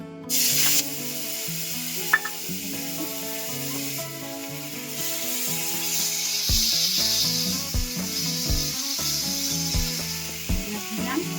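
Bay leaf, whole garam masala and onion paste hitting hot oil after frying fish, a sharp initial sizzle settling into a steady crackling fry, close and moderate, with faint clinks of utensils.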